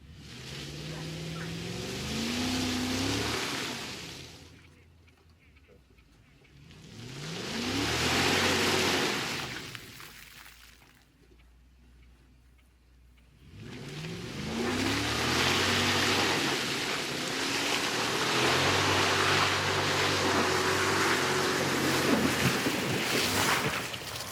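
A Lexus GX 470 or VW Touareg powers through a watery off-road stretch in three loud surges, engine revving and rising in pitch, splashing through water between quieter gaps.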